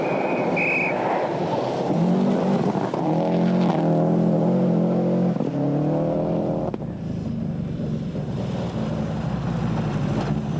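Subaru rally car engine at the 1995 Rally Australia, overheating with the temperature gauge off the stop, revving through repeated rising gear pulls under steady road and wind roar.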